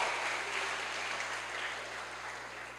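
Church congregation applauding in a steady, dense wash of clapping that holds at an even level and fades slightly toward the end.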